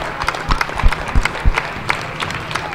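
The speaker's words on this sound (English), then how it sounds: "you can hear the applause" Crowd applause and scattered claps in a gym at a girls' high school basketball game, Dayton Dunbar at East Clinton, with some low thumps from the floor. The clapping is moderate and continuous, with crowd murmur underneath and no clear speech.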